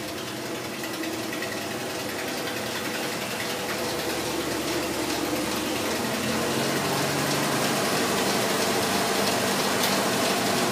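A self-contained hydraulic pump on a Harbor Freight 6000 lb scissor lift running, a steady loud whirring drone that holds constant throughout, no talk.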